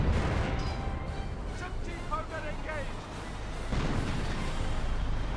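Artillery shells landing in a Company of Heroes battle, a continuous rumble of distant booms and impacts under game voices and radio chatter, with short tonal chirps in the middle.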